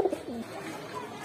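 High flyer pigeons cooing at a pigeon shop, a soft, low throaty coo rising and falling, fairly close and moderately quiet over faint background room noise.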